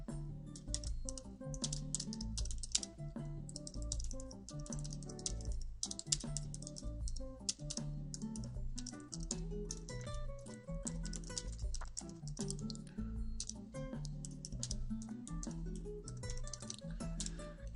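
Continuous typing on a computer keyboard in an office, rapid close key clicks in uneven bursts with brief pauses, no talk.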